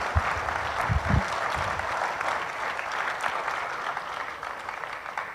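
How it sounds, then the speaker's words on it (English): A crowd applauds steadily at a formal opening ceremony of a space expo and conference in Kenya as the guest of honor, a cabinet secretary, arrives; the clapping is dense and sustained throughout, with a few low thumps near the start. "Let's give him a round of applause as he comes."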